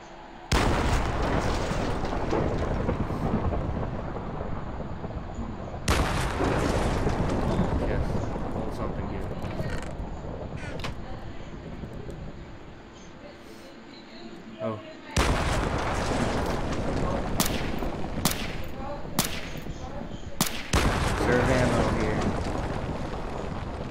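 Pistol shots in a Minecraft survival games minigame with guns, sharp repeated cracks in clusters over a steady noisy background, some bursts coming in quick succession.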